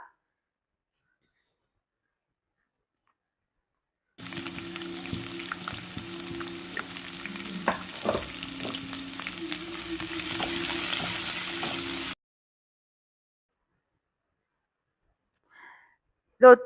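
Chopped onions and coconut pieces sauté in a pan for chicken curry, giving a steady, close sizzle with scattered stirring clicks for about eight seconds before the sound cuts to near silence.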